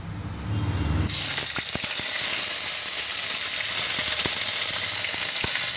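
Bay leaf, dried chili, panch phoron and ginger paste hitting hot oil in a kadai, a sudden loud hissing sizzle bursting in after a quieter start, then steady spitting with a few sharp clicks.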